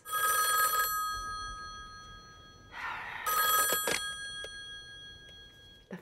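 A telephone bell rings in The Matrix, two loud bursts of bright ringing separated by a short pause, with a faint click at the end and no voices.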